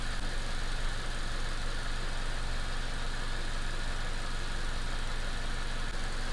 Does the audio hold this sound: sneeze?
no